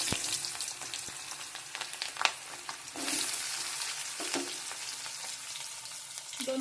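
Onions frying in oil in a pan for paneer masala, a steady crackling sizzle with occasional stirring scrapes, close and fairly quiet with no talking.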